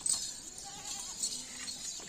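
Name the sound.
goats bleating on a goat farm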